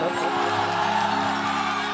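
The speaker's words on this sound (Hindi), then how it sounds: "गोलू के लिए एक जोरदार ताली हल्ला करके बजाइए आप सब" Loud crowd at a Bhojpuri stage show cheering, whooping and shouting for the performer Golu, a dense continuous roar of voices with no clear breaks.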